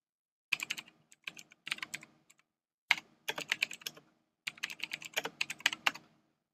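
Typing on a computer keyboard: quick bursts of close, crisp key clicks separated by short pauses, with no talk over them.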